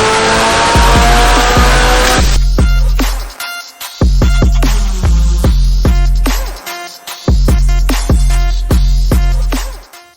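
A 700-horsepower Mitsubishi Lancer Evolution X engine revs hard on a dyno, with loud sustained pulls at full throttle that cut off into brief pauses before rising again.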